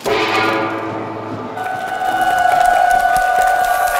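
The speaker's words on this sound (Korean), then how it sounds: "박수!" A stadium crowd of Korean fans at a World Cup qualifier against Iran cheers and claps, a dense continuous roar with a steady tonal hum that swells louder in the second half.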